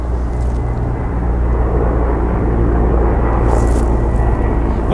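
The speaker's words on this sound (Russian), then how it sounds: "Вот как раз, слышите, вертолет пролетает." A helicopter flies overhead near an abandoned hotel, a steady loud low rumble and drone that holds throughout with no voices.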